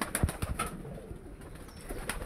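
Pigeons, Koka and Lotan breeds, on a small pigeon farm, with soft cooing and a few brief wing flaps and thumps close by over low background noise.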